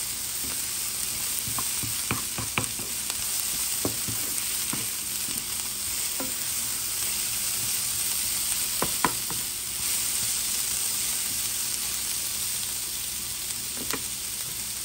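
Peppers and onions frying in a pan make a constant close crackling sizzle, punctuated by scattered spoon taps and scrapes as they are stirred.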